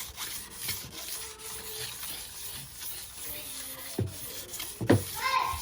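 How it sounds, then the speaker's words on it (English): Steady wet rubbing and rasping of 800-grit sandpaper against a car headlight, continuous strokes with a few louder scrapes near the end. "Sand it with 800 first."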